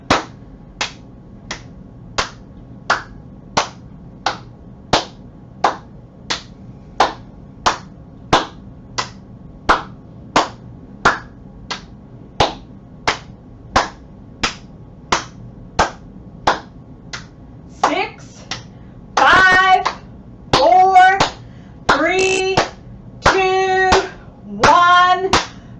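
Hands clap in a steady rhythm, one sharp clap roughly every half second, alternating below and above during a workout. Near the end some fuller, denser bursts join in. No one speaks.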